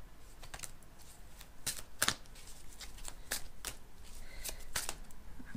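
Tarot cards are shuffled by hand in a quiet room, giving a run of soft, crisp riffling and slapping bursts with short pauses between them.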